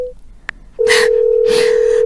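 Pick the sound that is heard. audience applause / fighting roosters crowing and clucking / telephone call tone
telephone call tone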